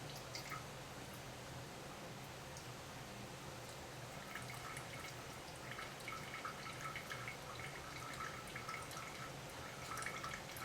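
Coolant drips and trickles faintly while a PC water cooling loop in a Corsair 800D case is filled, with soft irregular drops over a steady low background hum.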